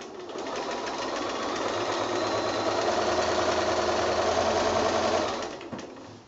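A sewing machine stitches a giraffe quilt in one loud, continuous run of about five seconds before stopping abruptly.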